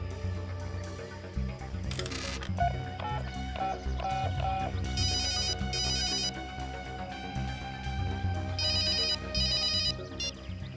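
A phone melody plays over background music, with bright repeating electronic tones in short bursts; no one speaks.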